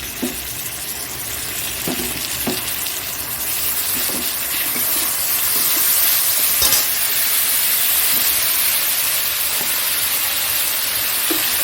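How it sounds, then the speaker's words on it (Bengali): Onion and tomato sizzle steadily in a hot pan, with occasional scraping stirs and clinks of the spoon breaking through a constant frying hiss, close and fairly loud throughout. "পেঁয়াজটা লাল ভাজা হয়ে যাবে টমেটোটাও দিয়ে দিচ্ছি"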